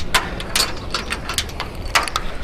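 Screw being driven into a solar panel mount, a string of short clicking, ratcheting ticks at an irregular pace, close by over a low background rumble.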